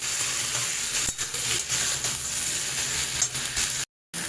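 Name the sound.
stirring and frying vegetables in a pan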